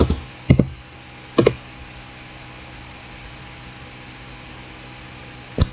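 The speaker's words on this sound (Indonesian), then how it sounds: "Kemudian kita ketik lagi IP address." A few scattered keystrokes on a computer keyboard as an IP address is typed, two short clusters of clicks early on and a single tap at the end, with steady low hum between them.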